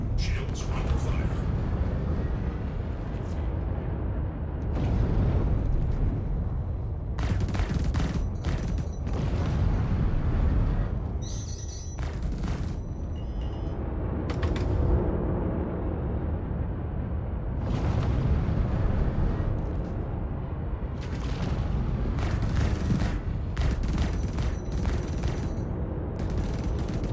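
Star Citizen ship shields take repeated weapons fire, producing a continuous rumble of impacts and blasts with clusters of sharper hits, while a voice talks over much of it.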